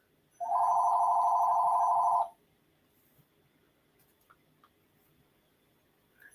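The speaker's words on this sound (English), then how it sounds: "There goes my phone again." A telephone bell rings in one continuous burst of about two seconds, loud and close, followed by quiet room noise with a few faint clicks.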